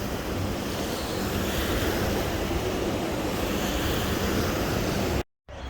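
Waves churning in an empty wave pool at Wet'n'Wild water park on the Gold Coast, a steady, loud, broad wash of surf that runs continuously, with a brief dropout near the end.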